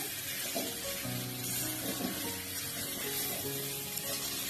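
Spice paste frying in a pan for rohu fish curry, a steady soft sizzle with faint stirring scrapes, fairly quiet and continuous.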